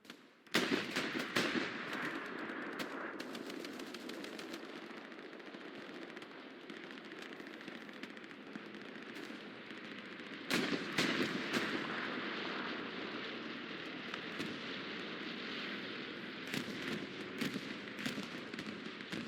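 A bombing run in the Hell Let Loose war game brings sustained, distant-sounding explosions and gunfire, a continuous roaring rumble punctuated by sharp cracks and a heavier blast midway.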